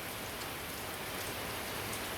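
Steady rain falling, a dense, even hiss of drops on surfaces, continuous and fairly close with no other sounds.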